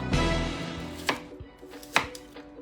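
Knife chops through firm beetroot or pomegranate on a cutting board: a sharp thud, then a few spaced cuts, close and moderately loud with no talking.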